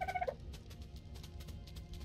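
Dodos from the game ARK Survival Evolved give a short burst of clucking, gobbling calls near the start, then fade, leaving faint game ambience and soft clicks.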